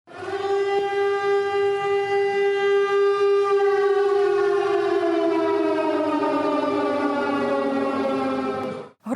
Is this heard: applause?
no